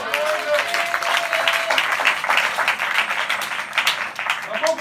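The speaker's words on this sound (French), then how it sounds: "Acclame pour Jésus" Church congregation applauding for Jesus, a dense run of clapping from a crowd, with voices calling out over it.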